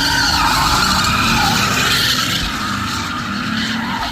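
Car drifting with tires skidding, a loud sustained screech mixed with engine roar, close and continuous throughout.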